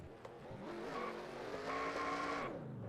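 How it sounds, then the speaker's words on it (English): A stock race car in NASCAR Racing 2003 at Talladega does burnouts, with a steady revving engine drone and faint tire squeal at modest level. "He nearly flips the 31, trying to do his burnouts"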